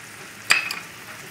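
Kalamata olives drop into a hot pan of pasta puttanesca sauce, giving one brief sizzling splash that fades over a soft steady frying hiss.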